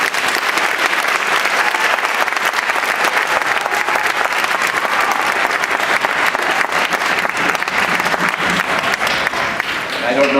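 Sustained audience applause fills a children's violin winter concert, dense steady clapping from a crowd that carries on evenly for about ten seconds before thinning near the end.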